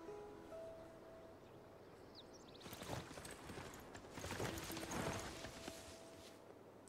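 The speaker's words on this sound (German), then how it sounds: "Der englische Streitwagen hat den Fluss überquert," English chariot horses crossing a river in Civilization VI, heard as a quiet stretch of hoof clip-clops and splashing steps that builds into a busier middle section before easing off.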